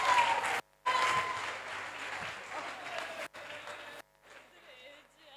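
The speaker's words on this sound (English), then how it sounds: "please give a big, big warm applaud for Mr. Josh O'Connor" Audience applause for a speaker at the closing ceremony of a school conference, a dense wash of clapping broken by brief dropouts, fading to quiet near the end.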